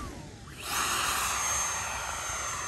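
Freewing F22 8S 90mm ducted-fan RC jet passing overhead on a maiden flight, a steady loud whooshing jet roar that swells after a brief quieter start and holds without talk.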